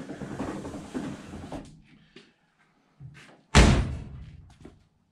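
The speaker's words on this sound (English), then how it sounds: "The door closes nice now." Door of a 1952 Ford F1 closed-cab truck shutting, a single solid slam near the middle after some handling noise and rustling, close and fairly loud, with a few light knocks around it.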